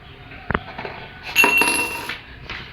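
In a school physics demonstration, paper is yanked quickly from under a coin that falls into a glass: a sharp tap, then a bright, ringing metallic clink that lingers briefly, close and clear with no talking.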